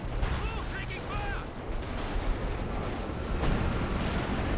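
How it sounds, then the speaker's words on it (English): Assault artillery barrage in Company of Heroes 2, a dense rumbling roar of shelling and gunfire that never lets up across the whole stretch, with a few brief whistling streaks and some speech mixed in. "in comes the assault artillery"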